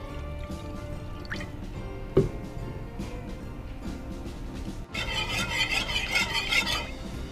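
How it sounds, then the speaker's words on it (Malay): Boxed coconut milk and a little water are poured into a cooking pot for solok lada, a steady liquid pour and drip with a small knock, growing louder and fuller toward the end, no talk. "kita letakkan sedikit santan. Okay, santan kotak. Okay, agak-agak je, dan sedikit air"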